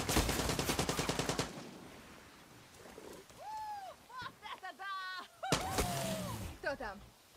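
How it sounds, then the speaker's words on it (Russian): Gunfire in Far Cry 6 comes as a rapid automatic burst at the start and again as a short, loud volley later. Between the bursts a voice speaks excitedly, with bird-like calls mixed in. "Кто стреляет, а?"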